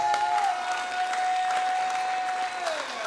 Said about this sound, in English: let me hear the storm of applause